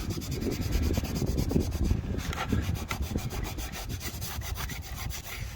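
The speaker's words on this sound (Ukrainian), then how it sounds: "І зараз спробуємо ще тряпочки протерти." Cloth rags rubbing across a burnt laminate floor marked by hookah coals, a steady close scrubbing and rasping with repeated back-and-forth strokes, no talking.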